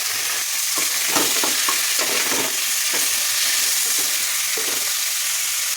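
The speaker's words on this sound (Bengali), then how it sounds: "এবার এই পেঁয়াজের মধ্যে মাংসটা দিয়ে দেবো।" Chicken drops into a pan of frying onions and a chilli, ginger, garlic and tomato paste, setting off a loud, continuous sizzle with bursts of crackle as the pieces are stirred.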